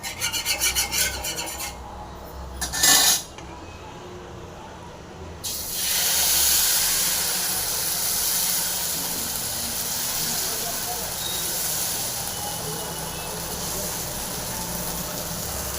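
Herbal mudakathan dosa batter sizzles in oil on a hot pan, a dense steady hiss that swells after a brief scraping clatter and then holds loud and close.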